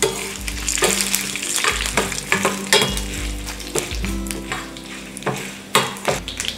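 Urad dal, mustard seeds and cumin seeds fry in hot oil for a South Indian cucumber chutney tempering, with a steady close sizzle, spattering crackles and occasional stirring scrapes against the pan throughout.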